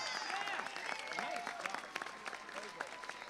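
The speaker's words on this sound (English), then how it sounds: "Everybody give a round of applause for Bob, a very entertaining judge." Applause and clapping from an audience at a Dancing with the Docs awards event, a steady wash of many hands that thins out toward the end.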